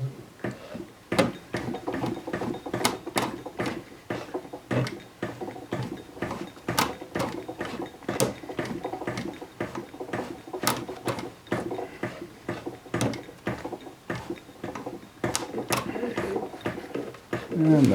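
A sewing machine stitches over a thick denim jeans seam, with a steady rhythm of close, sharp needle clicks and mechanical patter running throughout, loud and near.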